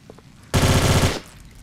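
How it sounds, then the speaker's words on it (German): A short, loud burst of rapid machine-gun fire in Tomb Raider: The Angel of Darkness, roughly half a second of fast repeated shots following a quiet lead-in. "Na, wo schießt du denn hin, Lara?"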